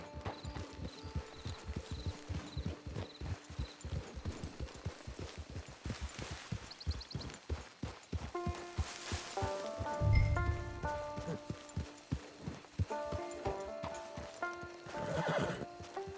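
Steady clip-clop of horse hooves walking close by in the video game Red Dead Online, with a horse neighing partway through and soft rain pattering in the background.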